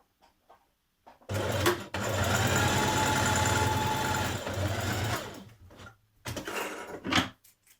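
A sewing machine runs a dress centre seam in one steady burst of about four seconds, then a short second run, with a few soft clicks before and between, close and fairly loud with no talking.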